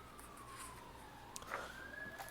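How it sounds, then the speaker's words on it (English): A siren wails in the distance, its pitch sliding down then rising again, faint behind a low background hum. "Apologies for the sirens in the background."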